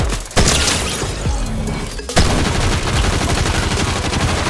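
Gunfire in Fortnite, loud sharp cracks and rapid bursts of shots that open abruptly and return after a short lull, dense and close, with no talking.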